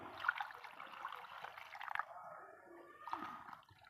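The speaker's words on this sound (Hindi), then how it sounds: "ये पानी डाल दिया, मिट्टी गीली हो गई।" Water is poured onto mixed soil in a pot for planting tomato seeds, a soft, fairly faint splashing and seeping sound close by.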